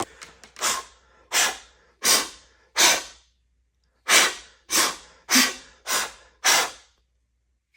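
Sharp, forceful puffs of breath blowing moisture droplets out of an instrument's holes, about ten short bursts in an irregular rhythm, close and alone.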